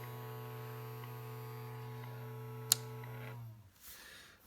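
The vibrator power supply of a Crosley BC-654a WW2 radio drones with a steady, harmonic-rich buzz, a single sharp click partway through, before the noise cuts out and fades into faint background sound.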